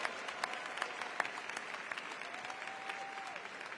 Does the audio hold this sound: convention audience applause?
yes